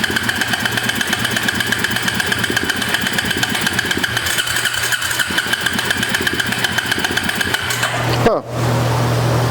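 Suzuki LT250 quad engine running with a rapid, steady mechanical rhythm, close and loud, then abruptly cutting out near the end; a voice speaks briefly over it.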